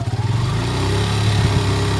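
A motorcycle engine rumbles loudly up close, pulsing at first and then building into a steady rev.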